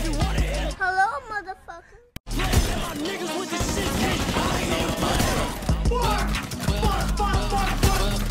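A burst of cartoonish gunfire from a so-called kitchen gun, with sharp shattering and rapid shots after a brief pause, loud and dense over music and voices.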